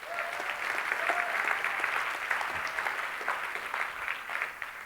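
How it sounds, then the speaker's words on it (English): An audience at a communication workshop gives a speaker a steady round of applause, a soft but continuous wash of clapping hands heard at a distance, lasting throughout with little variation. "Give him a nice round of applause."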